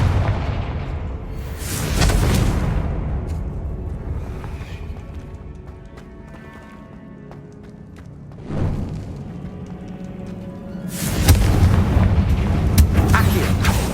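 A Confringo spell explosion in the Hogwarts Legacy video game arrives as deep, rumbling booms with a lingering roar, one near the start and another heavier blast toward the end over steady game ambience.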